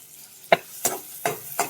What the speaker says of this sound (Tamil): இப்போ அதே ஆயிலில் நம்ம வெங்காயத்தையும் கருவேப்பிலையும் சேர்த்துக்கலாம்